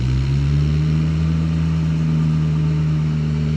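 A Ventrac radio-controlled machine with a flail attachment runs its engine at raised RPM, a loud, steady, close mechanical drone with a strong low hum that holds even throughout, with no talking.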